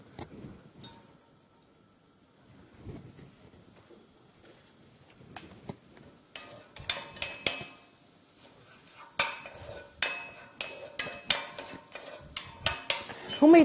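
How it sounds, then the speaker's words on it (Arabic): Onions frying in a pan: a quiet start, then close, busy clinks and scrapes of a utensil stirring against the pan, with a faint sizzle underneath and no talking. "نقلي البصل،"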